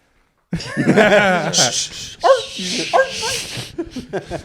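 A dog whimpers and yips in a close, loud burst of strained, whining barks, with rubbing and scuffling noises throughout and a few sharper yelps trailing off.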